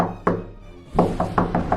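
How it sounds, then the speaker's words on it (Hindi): Several firm knocks on a wooden door: two single raps, then a quick run of four evenly spaced knocks, close and fairly loud. "मदन के घर का दरवाजा खटखटाते हैं।"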